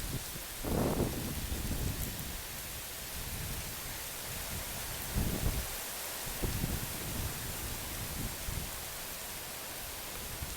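Heavy rain pours steadily during Typhoon Molave on Phu Quoc, Vietnam, a dense hiss of downpour broken by a few deep, low rumbles and thumps of distant thunder.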